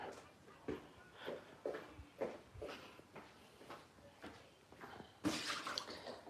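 Soft rhythmic wet lapping sounds repeat steadily, close by and fairly quiet, as a dog drinks rainwater off the top of a bin, ending in a brief louder splash.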